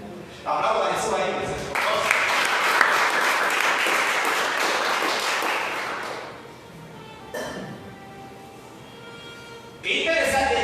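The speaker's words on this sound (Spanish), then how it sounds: "Aplauda a Jesús ahí." A church congregation at a Spanish-language service breaks into loud, sustained applause for several seconds. It eases off, then returns in shorter bursts near the end, with voices mixed in.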